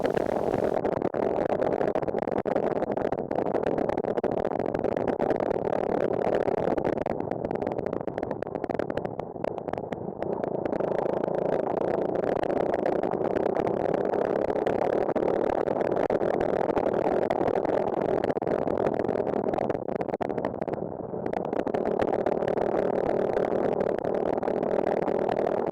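Supercharged NOS postie motorcycle engine droning steadily while riding on a road, a continuous mid-pitched hum with wind noise, loud and unbroken throughout, with only slight dips in tone.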